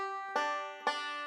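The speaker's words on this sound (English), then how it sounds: "This has a good Scruggs style pull off in it" Banjo playing a forward-reverse roll started with the thumb on the fifth string, with a Scruggs-style pull-off; two bright plucked attacks ring out over sustained harmonic strings, close and clear with no talking.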